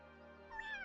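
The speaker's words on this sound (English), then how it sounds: "Hey, kitty. What are you doing here?" A cat meows in the farming video game Wylde Flowers, giving one drawn-out, rising meow over a quiet steady background tone, with no talk.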